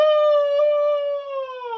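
A human voice imitates an elephant's trumpeting call, a single loud sustained high-pitched tonal wail that slides slightly lower and wavers toward the end.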